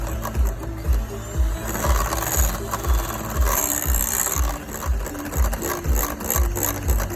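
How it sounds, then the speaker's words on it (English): Rhythmic scraping strokes of a whisk against a pot, repeating steadily and close up while a caramel mixture for peppermint crisp tart is slowly blended, with no talking. "Take the whisk back. And just slowly blend that all together."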